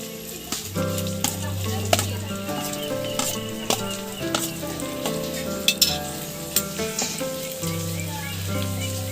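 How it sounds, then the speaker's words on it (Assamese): Potatoes frying in a pan and being stirred with a ground spice paste, a steady sizzle with scraping stir strokes under background music, no talking. "আলু দি দিছোঁ আমি এতিয়া আকৌ লাৰি দিম আমি পেষ্টখিনি দিম"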